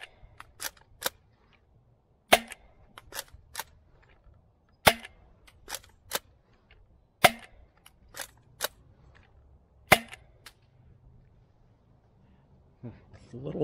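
A DZP Mk 2 foam dart blaster fires Vauberry darts outdoors in a rapid string of sharp, loud snapping shots, several in quick pairs and bursts, with quiet gaps between them.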